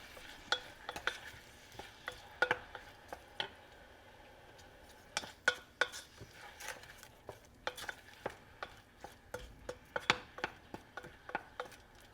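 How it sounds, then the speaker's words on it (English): Mushrooms sautéing in a pan for a bacon beef stroganoff, heard as a soft, low sizzle under frequent sharp ticks and clacks of a utensil stirring and tapping the pan, close and fairly quiet. "We're just going to saute our mushrooms till they get just a little soft."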